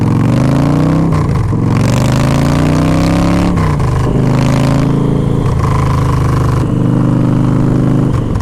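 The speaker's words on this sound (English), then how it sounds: "Hear that big old 107-inch V-twin, no, 106?" A 2011 Victory High Ball bobber's big 106-inch V-twin engine runs loud and close while riding, revving up and down repeatedly with rising and falling pitch as the throttle is worked, dominating throughout.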